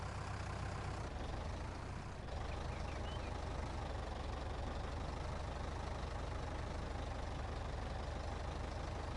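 Tractor engine idling in Farming Simulator 19, a steady low rumble with a constant diesel chug that holds unbroken throughout, loud and close, with no talk over it.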